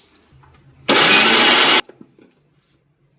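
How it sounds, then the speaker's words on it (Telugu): A kitchen mixer grinder blending powdered jaggery for ragi laddu runs in one loud, steady burst of a little under a second, then stops abruptly, with quiet kitchen sounds before and after. "బెల్లం కలసాలి కాబట్టి మళ్ళీ మిక్సీలో వేసుకుంటాను."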